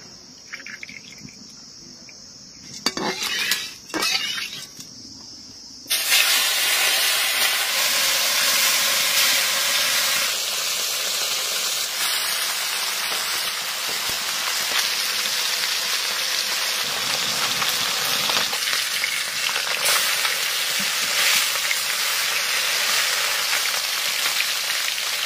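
Mustard oil heats in a wok (kadai) during village-style cooking. After a few quiet seconds with a couple of clatters, a loud, steady, broadband sizzling hiss starts and continues unbroken to the end.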